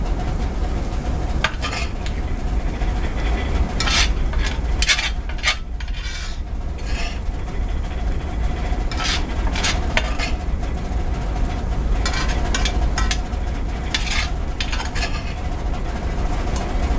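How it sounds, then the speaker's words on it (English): Onions and green peppers sauteing in a cast iron skillet aboard a towboat give a steady close sizzle with intermittent stirring scrapes, over a constant low engine rumble and rattling. "Now we're going to do the onion and green peppers. Just saute them down."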